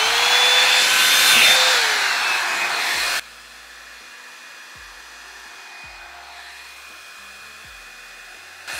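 Revlon hair dryer styler running on low heat, a loud steady whir with a high whine for about three seconds, then switched off, leaving quiet room tone with a few soft knocks.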